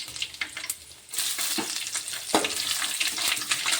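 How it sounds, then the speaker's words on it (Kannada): Curry leaves and peanuts frying in hot oil for kadai egg curry, a soft crackle that bursts into a loud, dense sizzle after about a second, with occasional stirring knocks, close up and without speech. "ಹಾಗೆ ಕರಿಬೇವು ಹಾಕ್ತೇನೆ ರೀ."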